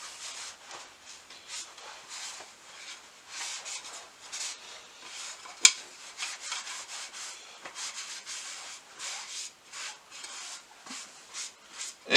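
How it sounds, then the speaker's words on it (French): A damp cloth is wiped back and forth across the surface of a cherry wood cutting board, making soft, close, repeated rubbing swishes in an uneven rhythm, with a single sharp knock midway. "j'humidifie un chiffon et je viens humidifier tout de suite la surface de mon bois"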